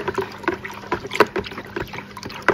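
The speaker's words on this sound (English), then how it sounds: "we're just gonna stir it up" Tablets being stirred into water in a bucket, with irregular close sloshes, splashes and gentle swirling strokes of liquid.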